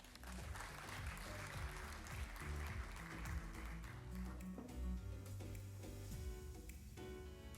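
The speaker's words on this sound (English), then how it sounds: "Please give them a round of applause." A conference audience applauds at a water-management event, a dense, steady wash of clapping that stays moderately loud for several seconds before thinning toward the end, with music or a faint voice underneath.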